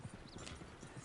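Horse hooves galloping across open ground in the video game Red Dead Redemption 2, a quick rapid clatter of hoofbeats with a brief whinny, set against steady outdoor ambience and no speech.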